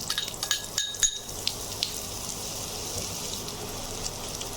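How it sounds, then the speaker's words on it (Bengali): Chopped onion dropped into hot mustard oil: a steady bright sizzle with crackling pops, loudest in the first second, then settling into a continuous fry with no talking. "দিয়ে দিচ্ছি পেঁয়াজ কুচি"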